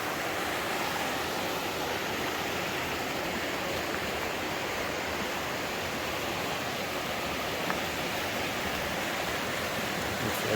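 A steady, dense roar of the fast-flowing Svicha mountain river fills the whole stretch without a break, loud and close.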